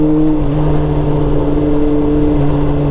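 A steady, loud motorcycle engine drone with a constant low hum runs throughout, like the motorcycle cruising close by at an even speed on a ride in Daraitan, Rizal.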